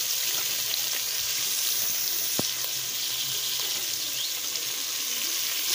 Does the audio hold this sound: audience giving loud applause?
no